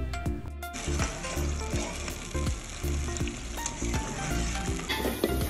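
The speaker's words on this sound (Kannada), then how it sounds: "ಬೆಳ್ಳುಳ್ಳಿ ಎಣ್ಣೆಯಲ್ಲಿ ಒಳ್ಳೆ ಫ್ರೈ ಆಗಿದೆ ಆಯಿತಾ" Garlic fries in hot oil for a Karnataka-style gooseberry pickle, giving a close, continuous sizzle broken by rhythmic stirring scrapes in the pan. No one speaks.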